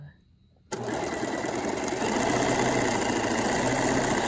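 A sewing machine runs a tiny zigzag stitch along the hem of an 1890s-style chemise, its close, steady whirring hum starting suddenly after a quiet moment and holding continuously to the end.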